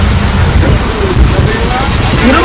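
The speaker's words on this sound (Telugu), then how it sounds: "చాలా భయంకరమైన వర్షం" Loud, dense rush of heavy rain on a mango farm with gusty wind buffeting the microphone, a constant roar throughout.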